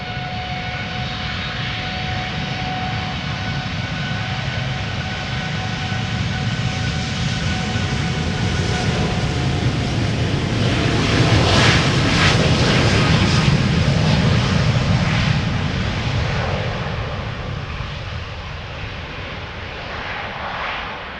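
A TUI airliner bound for Aruba roars on departure from Amsterdam Schiphol Airport, its broadband jet engine noise building to a loud peak around the middle and then slowly fading as it climbs away.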